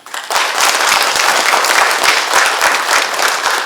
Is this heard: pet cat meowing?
no